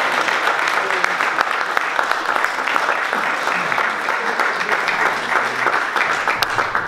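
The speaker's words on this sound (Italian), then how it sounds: "e anche a Mattia, Giacomo e Linda con un bel applauso." Warm audience applause at an anniversary celebration for an amateur football club, steady clapping from a crowd indoors with some voices mixed underneath.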